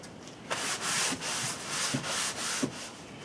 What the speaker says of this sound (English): I'll wipe it down just to make sure there's no grease or any kind of wax or anything on here.